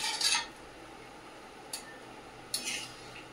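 Fried eggplant pieces going into a pot of boiling fish curry, three short metallic clinks and scrapes of a utensil against the pot over a quiet, faint simmer.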